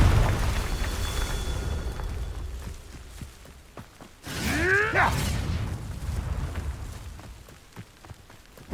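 A Confringo fire spell in the video game Hogwarts Legacy goes off as a sudden whooshing burst with sweeping, crackling tones that swell and fade within about a second, standing out mid-clip over a low ambient rumble and scattered footstep-like taps.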